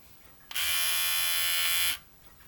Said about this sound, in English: This little clipper has more than paid for itself now.